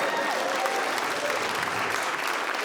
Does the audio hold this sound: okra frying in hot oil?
no